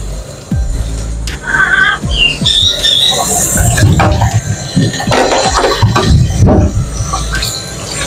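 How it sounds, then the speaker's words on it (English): Shrill, repeated squawks and chirps from a pet bird ring out close by in a kitchen during cooking, with clattering household noise and rustling underneath. "My bird's making so much noise because he don't see me in the room."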